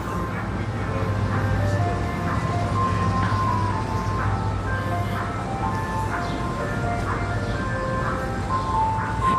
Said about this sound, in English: we can hear the ice cream jingle right across the street